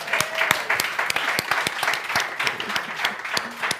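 Audience applause at a Startup Grind startup event in Almedalen, dense and steady clapping from a crowd, fairly close and sustained throughout with no talk over it.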